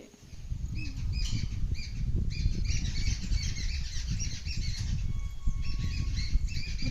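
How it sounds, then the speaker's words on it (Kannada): Birds chirp and squawk in a village in the morning, with repeated bright calls throughout over a steady low background rumble. "ಅಷ್ಟೊಂದು ಹಕ್ಕಿಗಳ ಚಿಲಿಪಿಲಿ ಈಗ ನೋಡಿ"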